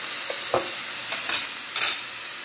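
Milkfish stuffing seasoned with pepper sizzles steadily in a pan while a utensil scrapes through it in a few distinct stirring strokes, close and fairly loud, with no talk.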